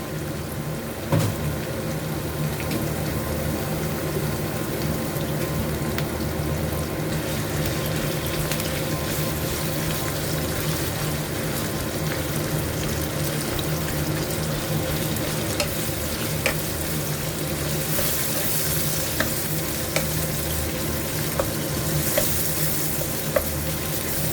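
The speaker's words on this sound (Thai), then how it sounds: "จากนั้นใส่หมูสับลงไปจ้า ใส่หมูสับลงไปนะคะผัดเลยนะคะ" Minced pork stir-frying in a hot pan for a Thai chili dip with tomatoes, a loud continuous sizzle with scraping stirs throughout, no talk.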